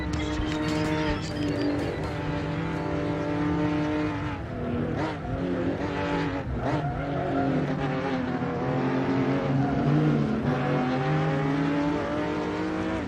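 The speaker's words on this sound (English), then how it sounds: "Let's just listen to this Porsche." A Porsche flat-six race car engine in the Assetto Corsa racing game, a loud, continuous harmonic drone that rises and falls with the revs throughout, with no talking.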